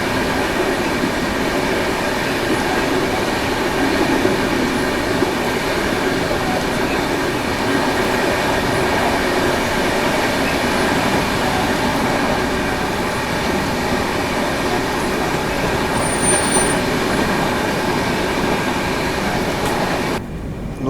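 Inside a 2AC coach of the 12565 Bihar Sampark Kranti Superfast Express as it overtakes the Vaishali Express: a steady, unbroken rumble of the running train, even and fairly loud throughout.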